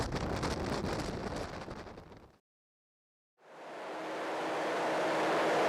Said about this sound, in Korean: 취재 기자가 바람 체험장에서 비바람을 맞아봅니다.